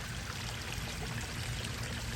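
Water from a homemade backyard pond waterfall, cut back so it drops straight onto a rock, pours in a steady close rushing splash that holds constant throughout with no voices.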